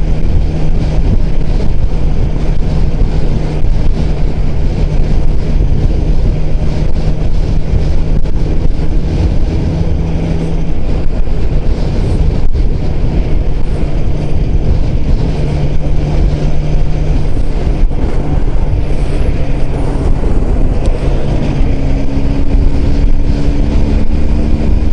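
Steady engine drone of an IZh motorcycle ridden at a slow, even pace, mixed with constant wind rush over the microphone, loud and continuous throughout with faint tonal shifts as the engine note changes.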